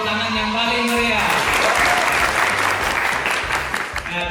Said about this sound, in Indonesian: Mari beri tepuk tangan yang paling meriah.